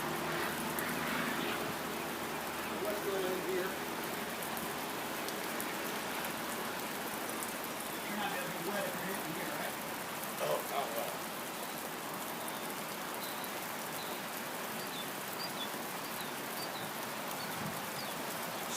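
Steady rain falls on surfaces outdoors during a golf lesson, a dense, even hiss of drops lasting throughout with slight variations and no talking.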